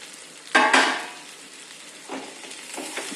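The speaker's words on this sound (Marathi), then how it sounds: "भेंडी पूर्णपणे तेलात परतून अशा प्रकारे घेणार आहोत" Okra goes into hot oil with green chillies, a sharp sizzling burst close by that fades into a softer crackle, followed by a few lighter stirring hisses and scrapes of a utensil in the pan.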